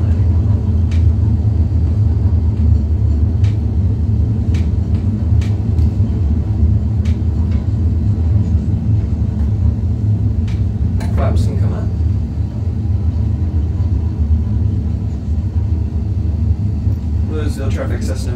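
In Microsoft Flight Simulator 2020, a light aircraft rolls along the runway after a crosswind landing, a loud, steady low engine and tyre rumble with a few faint clicks and a brief rattle near the end.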